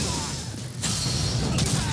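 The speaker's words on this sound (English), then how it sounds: "Oh, I can break a glass?" Glass shatters in the video game Yakuza Kiwami 2: a loud, sharp crash with a bright burst of breaking shards, then a second smaller splintering crack over busy game background noise.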